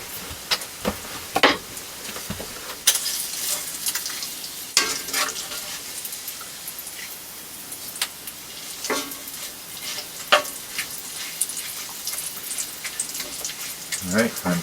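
Bacon sizzles steadily in a pan at a camp cooking spot, a constant crackling hiss with scattered sharper pops and occasional utensil clicks.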